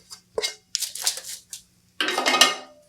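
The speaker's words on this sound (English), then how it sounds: "We're just going to add our granola directly from the pan right to the sheet." Granola tipped from a pan onto a foil-covered baking sheet, coming in scraping, rattling bursts with brief pauses between them.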